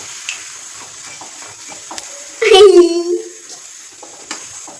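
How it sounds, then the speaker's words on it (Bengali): Thin eggplant slices in batter fry as beguni in hot oil, with a constant soft sizzle and a loud bubbling hiss about halfway through as a piece is turned or added. Occasional light clinks sound close by. "বিঘ্নি ভাজা হচ্ছে বিঘুনি ভাজা"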